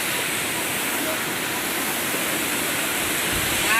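Dodiya waterfall at Bilpudi pours with a steady, dense rush of falling water, close and loud, holding an unbroken hiss throughout with no pauses.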